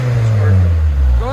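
A 1997 Honda Accord revving through its muffler, a deep, loud, close exhaust drone rising and falling over a second or so.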